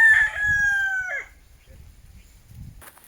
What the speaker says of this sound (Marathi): कोंबडा बघा ओरडतोय सकाळ सकाळ